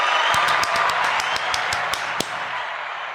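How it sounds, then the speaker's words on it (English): Applause greets the start of a new podcast season, a brief round of clapping from a small group, close and brisk, with sharp claps standing out before it fades after a few seconds. "a round of applause for that"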